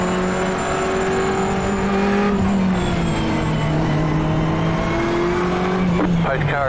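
Ferrari 488 race car on a slow warm-up lap at Spa-Francorchamps in iRacing, its engine holding a steady droning tone that dips and shifts as the driver brakes, with a rising rev near the end.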